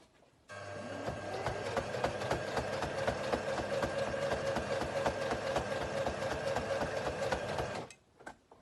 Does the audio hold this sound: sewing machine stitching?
yes